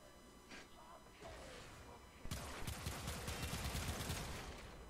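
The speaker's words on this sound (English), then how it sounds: "And these are pistols." Rapid pistol fire from the video game Warframe, a dense burst of gunshots that starts partway through over an ongoing game soundscape, loud and continuous until the end.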